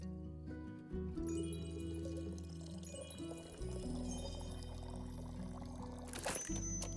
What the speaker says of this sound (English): I love the noises they make when I pour it in.